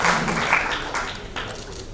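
An audience claps at a launch event for a Parkinson's disease treatment: dense, steady applause with scattered taps that carries at even loudness through the two seconds.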